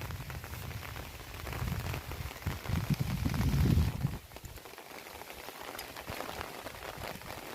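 Steady rain falls across an open farm field in a heavy downpour, a continuous hiss of drops with a louder, denser patch midway before easing back to an even patter; no one speaks.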